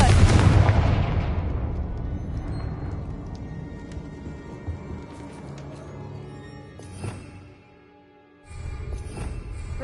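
Confringo explosion spell cast in the video game Hogwarts Legacy, a sharp loud blast that rumbles and decays over several seconds, followed by fainter crackles and a second burst near the end.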